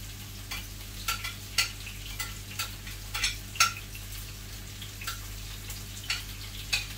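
Lots of onions frying in a pan for fish yassa, a steady sizzle under a spoon's regular scraping and tapping strokes, close and clear with no talking.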